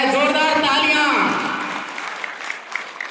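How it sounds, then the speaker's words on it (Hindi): Applause from a crowd at a community welcome ceremony in Dudu for a deputy chief minister, heard briefly under loud amplified speech, then fading into scattered claps. "जोरदार तालियां,"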